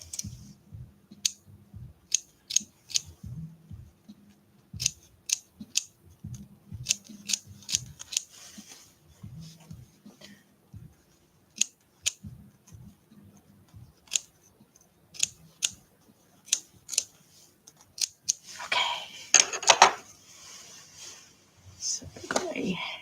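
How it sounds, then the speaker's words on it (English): Scissors snip through the fabric backing of faux fur pile in quick, uneven bursts of sharp clicks and crunches, close and clear, with a brief rustle of handled fabric near the end. "I'm just trying to cut the backing, not the pile."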